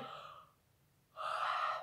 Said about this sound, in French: de bâiller en faisant un son